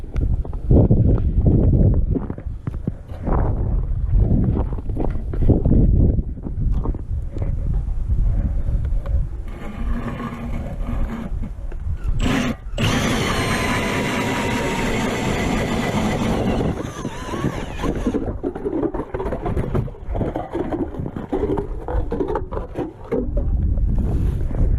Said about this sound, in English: So I'm going to go drill like 10 feet away